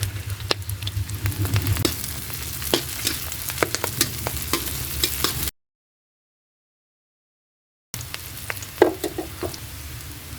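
Onion and chili frying for adobo in a pan, a steady close sizzle broken by scraping stirring strokes and light clatter, with a short silent gap in the middle.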